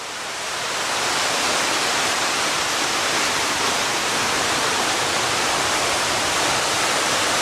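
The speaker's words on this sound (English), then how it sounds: "trying to see that waterfall over there" A waterfall at Watkins Glen State Park roars in a steady, dense rush of water, loud and constant throughout with no voices.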